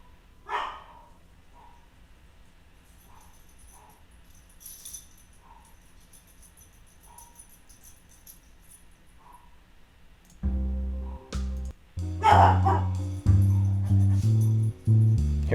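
Dogs bark in the distance as a short, faint, irregular series of yaps. Loud blues guitar chords then cut in over them.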